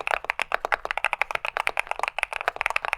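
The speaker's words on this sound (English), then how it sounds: "Here's what a normal keyboard sounds like." Brisk typing on a mechanical keyboard, sharp clacky keystrokes in a fast, uneven rhythm, close and clear with no talking.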